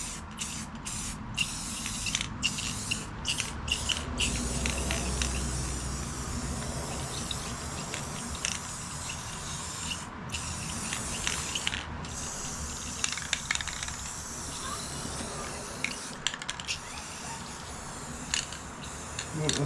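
Spray paint can hissing in repeated bursts over parts of a John Deere LA105 lawn tractor, with a worn nozzle sputtering; fairly close and continuous for stretches, broken by short pauses and small mechanical clicks.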